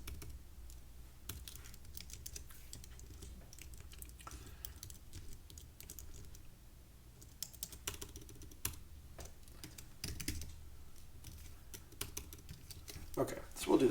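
Fast, irregular clicking of computer keyboard keys, soft and close, with brief pauses between bursts of typing.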